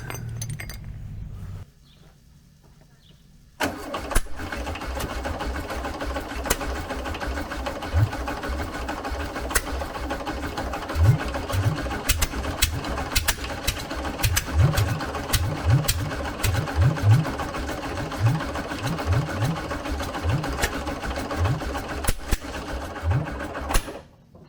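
A freshly installed 1915cc engine in a VW 1303S Beetle cranks and fires on its first run after a short pause, then runs roughly with an uneven, lumpy idle and clattering, ticking mechanical noise, close and loud, with no talking.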